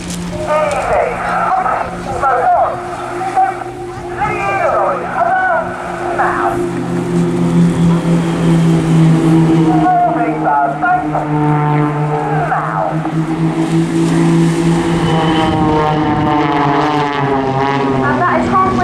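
Blades display team aerobatic aircraft at the Eastbourne Airshow performing a Spitfire roll, their engines droning loudly with shifting pitch under an announcer talking over a public address system.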